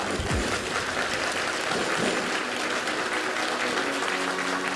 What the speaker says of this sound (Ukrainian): Отже, ваші оплески Тарафєєва!